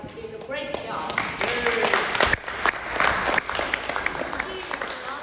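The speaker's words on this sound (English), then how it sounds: "please give a round of applause, which Maryah did a great job." A small audience at a region and zone chair training gives a round of applause, with scattered, uneven clapping that swells then thins, while people talk over it.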